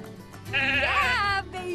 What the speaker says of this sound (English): Hi, sheep.